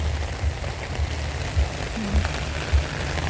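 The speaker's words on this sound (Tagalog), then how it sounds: "At palakas na po yung ulan ay." Heavy rain falls steadily outdoors near a parked car, a dense constant hiss with low rumbling thumps recurring about every half second, loud and continuous with no voices.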